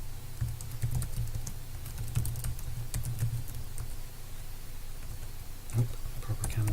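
Someone types on a computer keyboard, an uneven patter of close key clicks running steadily over a low steady hum, with no voices.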